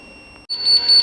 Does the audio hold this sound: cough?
no